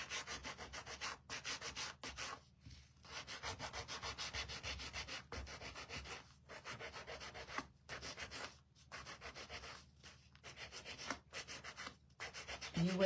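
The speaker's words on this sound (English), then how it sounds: "I'm gonna take my gator sander and I'm gonna sand the collar and the wings" A Gator hand sander rubs over a wooden angel's collar and wings in steady back-and-forth strokes, close and continuous, broken by brief pauses, with no one talking.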